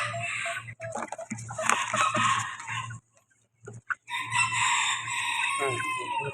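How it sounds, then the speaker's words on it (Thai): Several short-legged bantam chickens crow and cluck close by at a market in Chatuchak, overlapping calls in a busy, lively chorus with a brief pause midway. "นี่นะครับ เป็นไก่ขาสั้นทุกตัวนะครับ"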